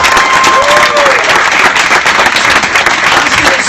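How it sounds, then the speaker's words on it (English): A large live studio audience at the 100th episode of the #AskGaryVee Show claps loudly and continuously, close and full, with faint cheers mixed into the sustained applause. "Please clap it up for yourselves because you mean a lot to me"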